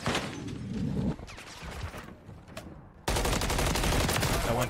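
Enemy fire in a multiplayer shooter video game, with loud bursts of rapid automatic gunfire, a short lull with scattered shots, then another sustained heavy volley, all close and dense.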